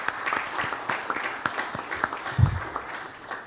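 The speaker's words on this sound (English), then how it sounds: "I request all of us to give a hand of applause to everyone for" Applause from an audience at a fintech exhibition, a fairly quiet, sparse patter of clapping with scattered distinct claps and a low thump partway through.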